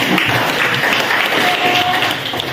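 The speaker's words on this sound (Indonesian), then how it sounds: "berikan tepuk tangan dulu" Students in an Indonesian classroom clap together in a short, steady burst of applause, dense and close, with no talking over it.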